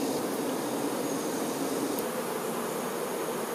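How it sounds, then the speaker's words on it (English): Foraging worker honey bees, over 18 days old, flying out of their beehive make a steady, dense buzzing drone that holds evenly throughout, close and continuous, with no voices. "These bees that fly out of the beehive to forage for honey are more than 18 days old."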